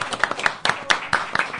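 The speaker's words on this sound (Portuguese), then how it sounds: "Pode aplaudir." Audience applause at a Brazilian radio-style interview show with two tarot readers as guests, a burst of scattered hand clapping with sharp irregular claps, fairly close, over roughly two seconds, with some voices mixed in.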